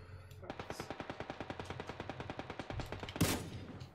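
Rapid automatic gunfire in PUBG on Xbox One: a fast, even stream of roughly two dozen shots, followed by a louder single blast near the end.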